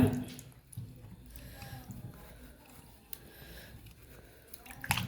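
Peeled tapioca root being rinsed in water for cooking, with soft wet squishing, sloshing and dripping from close by, a quiet continuous handling sound with a brief louder splash near the end.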